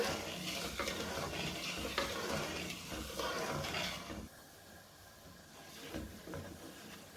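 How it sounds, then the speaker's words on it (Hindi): Sugar cooks in a pan for Pakistani makhandi halwa, giving a soft sizzling hiss with light stirring scrapes that drops noticeably quieter partway through before faint stirring returns. "चीनी इसमें पक रही है, अभी घुली नहीं है पूरी तरह।"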